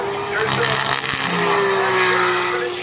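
BTCC touring cars race through the curves at Brands Hatch, their engines holding a loud, steady, high whine across the whole stretch with a brief tyre screech partway through.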